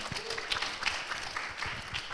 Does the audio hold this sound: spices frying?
no